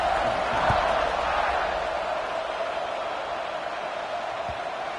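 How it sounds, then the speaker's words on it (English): Steady roar of a football stadium crowd after a score, before the kickoff following the PAT, a broad continuous buzz with a couple of faint thumps. "this crowd is buzzing after that last score"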